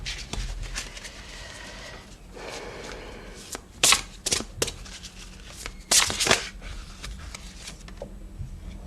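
Oracle cards handled and drawn from a deck, soft rustling broken by a few sharp riffling and snapping bursts, close and fairly quiet, with no talking.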